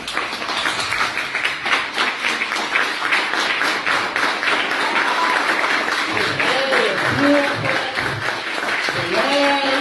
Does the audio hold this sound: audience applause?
yes